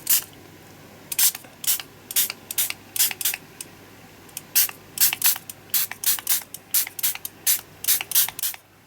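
Green spritzer spray mists onto an art journal page in quick, repeated close bursts, about two dozen short hissing pumps in an uneven rhythm, with no talking.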